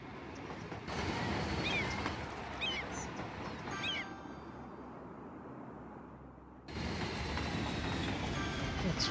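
Passenger train in the city-building game Cities: Skylines, a steady broadband rumble with a brief high whistle-like tone, dropping briefly before returning at full level.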